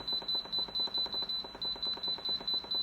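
An Instant Pot beeping after pressure cook is set, a rapid run of short, high-pitched electronic beeps in quick bursts, close and clear with no voices.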